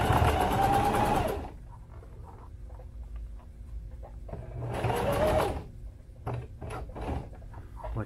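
A sewing machine stitches box stitches on a sling saddle, running in two loud, fast whirring bursts, a longer one and then a shorter one, with quiet handling noises in between.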